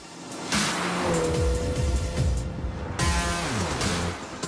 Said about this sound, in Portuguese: A edição John Cooper Works é o carro mais rápido que a Mini já fez.